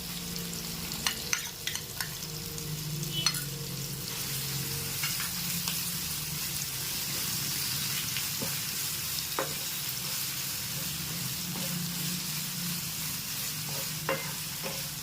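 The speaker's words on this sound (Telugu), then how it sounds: "మసాలా ఇలా ఆయిల్లో ఫ్రై అవ్వాలండి." Two spoons of spice masala fry in hot oil for a fish fry, sizzling softly and continuously with occasional light stirring scrapes, fairly quiet and close, no voices.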